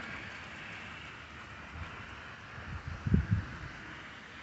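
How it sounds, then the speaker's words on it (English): Rain patters steadily through a tapering thunderstorm while distant thunder rumbles low, building into a short, deeper roll near the end of the few seconds. "So rain's tapering off, but we still got some thunder that we hear in the background."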